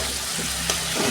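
Spice masala paste sautés in hot oil for a yogurt-based katla fish curry, a brief, even hiss of frying heard close up with a faint stir toward the end.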